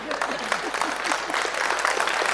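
A church congregation in Swindon claps together in a steady, close burst of applause that fills the whole stretch, with crowd noise mixed in.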